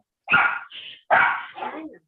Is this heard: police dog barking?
yes